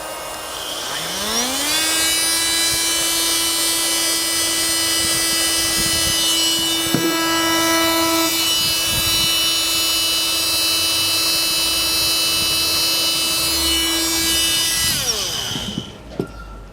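A Fein oscillating multi-tool spins up and runs freely without cutting, a loud steady high-pitched buzzing whine held close for about fourteen seconds before winding down, with a brief knock midway.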